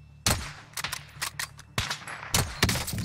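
Loud gunshots crack in the Warzone video game, several sharp bursts spaced irregularly, some in quick pairs, over quiet background and footstep-like thuds.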